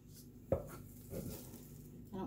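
Mashed potatoes spooned onto a cottage pie: soft thuds and scrapes of a spoon against the dish, a few irregular dabs at close range with a faint background hum.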